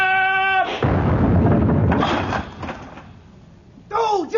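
A naval battery of ship's cannons fires in a radio drama, with a heavy booming blast and rolling rumble that fades out, set between shouted orders and other voices.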